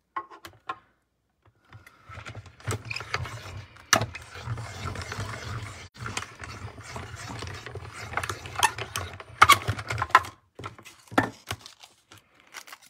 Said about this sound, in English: Can be used with the mini Stampin' Cut and Emboss machine.